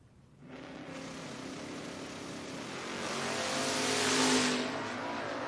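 A Plymouth Volare drag race car at a door wars event roars off the line with a loud, sustained engine rise that swells to a peak and eases slightly, heard up close with no talk over it.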